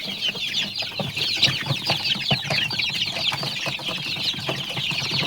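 A flock of native chickens clucks continuously at close range while feeding, with overlapping chatter and soft pecking and rustling throughout.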